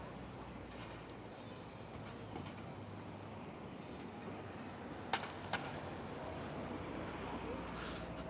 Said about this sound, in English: And the train.